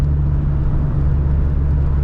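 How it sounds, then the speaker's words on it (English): A 1991 Chevrolet Corvette C4 V8 gives a steady, loud, close low exhaust rumble with no voices. "it definitely has a quintessential classic muscle car V8 rumble and growl"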